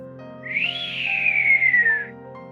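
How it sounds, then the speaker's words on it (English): A man whistles one long, clear note that rises briefly and then slides slowly downward, heard over a steady bed of background music. "Misha whistled."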